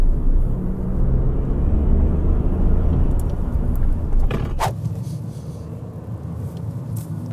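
A Dacia Sandero accelerating, heard from inside the cabin as a steady low engine and road rumble that stays loud throughout, with a brief rattle midway.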